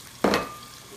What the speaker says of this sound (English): Nice sizzle. Green peppers.